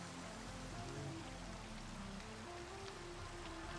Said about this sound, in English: Let's get rid of this rain.